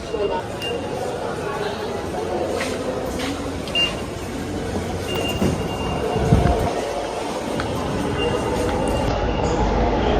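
A steady low rumble of a metro train running at Secretariat metro station in Dhaka, with a few faint beeps and a soft background murmur of people.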